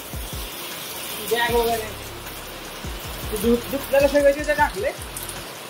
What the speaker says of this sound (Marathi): एकदम पाऊस चालू झालाय